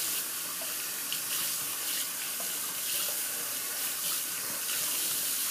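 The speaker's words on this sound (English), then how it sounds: "I'm just going to rinse the puck off here." Water runs steadily from a bathroom faucet, rinsing a shaving soap puck under the stream, a continuous close splashing hiss with small shifts as the puck moves through the flow.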